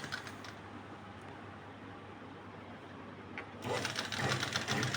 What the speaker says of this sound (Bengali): এখন সেলাই হচ্ছে